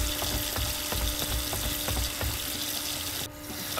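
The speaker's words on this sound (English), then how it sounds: "I'm trying to turn the water off, but it's not going to let me until it fills up the entire sink." Steady rush of water pouring from a tap into a sink in the horror game Paranormal, continuous and close, with a brief drop in level near the end and no talk.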